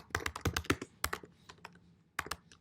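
Quick, uneven typing on a computer keyboard, with clustered key clicks, a short pause and then a few more strokes, close and fairly quiet with no talking.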